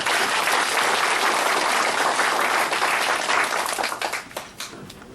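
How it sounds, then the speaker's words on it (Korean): Dense, loud applause from an audience at a rally calling for the dissolution of the Unified Progressive Party, steady for about four seconds before thinning and fading. "박수를 보내주시기 바랍니다"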